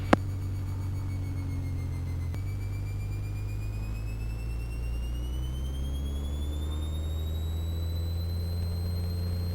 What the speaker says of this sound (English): Full power. Engine instruments good, airspeed's alive.